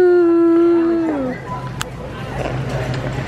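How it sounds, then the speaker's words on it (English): A dog howls outdoors in one long, steady wail for about a second, falling off into quieter yard noise with faint scattered sounds afterward. "I'm outside letting the dogs go potty"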